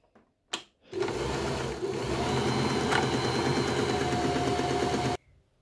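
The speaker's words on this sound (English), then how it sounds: "As long as I'm holding it in, the machine will go in reverse." Janome My Style 20 sewing machine stitching in reverse, a steady loud mechanical whirr with rapid needle chatter lasting about four seconds after a brief click, then stopping abruptly; no talking.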